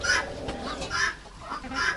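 Cochin chickens cluck nearby in short, repeated bursts, a few soft calls spaced across the moment.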